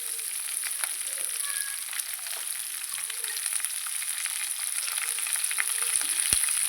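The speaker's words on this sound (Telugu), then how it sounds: "ఉల్లిపాయలు తొందరగా వేగుతాయి." Onions with a little salt sizzle and fry in a pan for a brinjal fry recipe, a steady even crackle with faint stirring scrapes, heard alone without talk.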